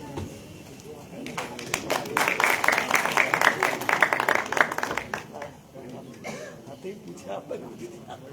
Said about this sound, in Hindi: एक बार जोरदार ताली से सबका स्वागत और सम्मान हो